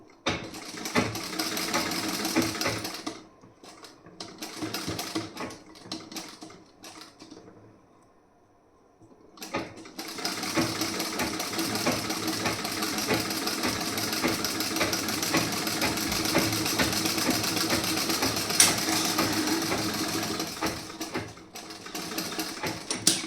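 An electric sewing machine stitches a piece of a blouse in a steady, fast mechanical whir, stopping briefly for a couple of seconds before running again at an even pace, close and with no talk.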